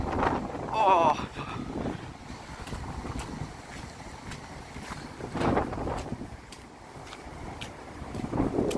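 Strong gusts of a storm roar through trees in Stanley Bank Woods and buffet the microphone, rising and falling in waves, with someone speaking briefly at the start.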